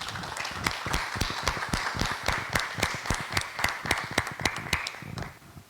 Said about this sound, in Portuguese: A salva de palmas para os pré-candidatos primeiro.